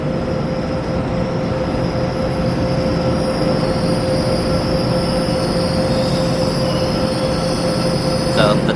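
At a Korean station platform, bi-level coaches pass with wheels squealing in sustained high metallic whines over a continuous rumbling rail roar, loud and close, without talking.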